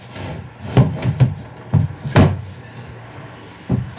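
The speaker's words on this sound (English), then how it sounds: "let's see if this drawer fits" Wooden knocks and scraping thuds as a wooden drawer is pushed and bumps into a cabinet in a box truck camper build, several irregular hits with quiet pauses between.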